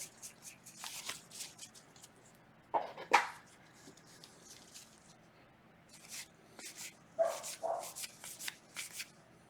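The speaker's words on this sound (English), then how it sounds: "Of course, my dog's acting up." A dachshund barks a few short times indoors, faint and a little distant, in two separate bursts among soft rustling and shuffling of trading cards, with no talking.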